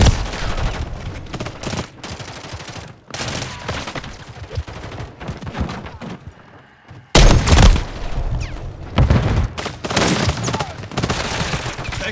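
Dense gunfire in a Call of Duty MW3 multiplayer match on the Stash House map, with rapid overlapping shots and bursts, a brief lull partway through, then a loud close volley followed by continued shooting.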